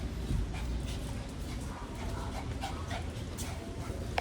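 A dog pants and moves about close by in an animal shelter yard, with soft whimpers and scuffling over a steady outdoor background.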